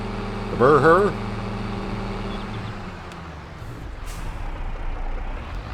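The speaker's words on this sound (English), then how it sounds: "The Brewer, whatever the name of this tractor is, that's what we're using." A tractor engine in Farming Simulator 22 drones steadily, with a sharp whistling air-brake-like hiss near the start and a low rumbling hum that continues throughout.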